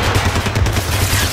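Gunfire in Max Payne 3, a rapid burst of overlapping shots, loud and close, forming a dense continuous rattle.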